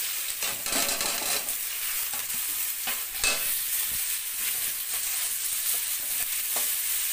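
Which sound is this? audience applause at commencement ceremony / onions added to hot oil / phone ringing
onions added to hot oil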